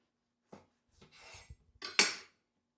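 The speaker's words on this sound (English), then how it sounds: "So let's get it cut in half." A knife slices a hot cross bun in half, giving a few short, soft scraping strokes and a final firmer crunch through the crust, close and quiet with no talk.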